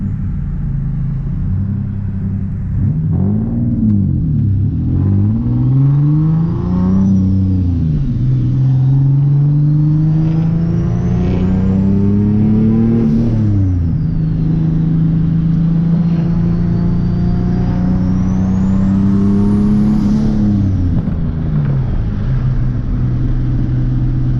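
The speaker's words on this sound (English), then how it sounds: "He didn't like that turbo sounds." Turbocharged Nissan 370Z engine, loud and close, revving up and down through several rising and falling sweeps over a steady idle rumble, with faint turbo whistle, no talk.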